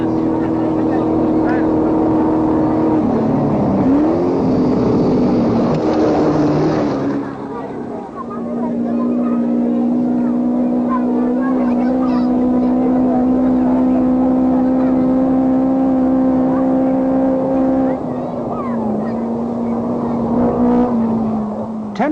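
Datsun rally cars race flat out through the 1982 Marlboro Safari Rally in Kenya, their engines whining in a loud, steady drone that rises and shifts as they pass, with someone narrating over the top.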